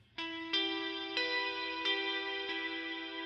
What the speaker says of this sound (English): So this is a room reverb with a long decay.